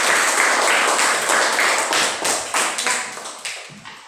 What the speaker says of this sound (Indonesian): Tepuk tangan untuk keseluruhan.